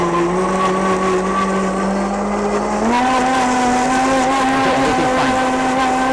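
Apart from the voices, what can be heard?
SANSROL 2123A heavy-duty blender blending coconut chutney at medium speed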